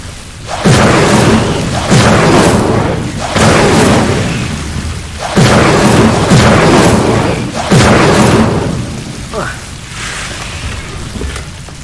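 Repeated fire spell casts in the Hogwarts Legacy video game, loud whooshing bursts with low booms landing about every two to three seconds, five in a row under a steady game background.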